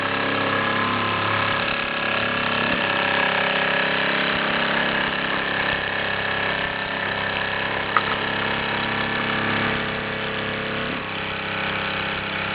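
Mamod MM2 model steam engine running, a steady close mechanical chuffing and whirring hum with hissing steam, continuous and fairly loud throughout.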